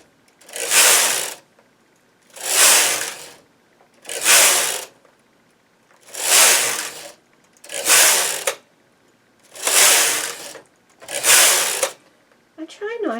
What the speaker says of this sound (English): I try not to hurry when I machine knit. The machine knits more evenly if I work slowly.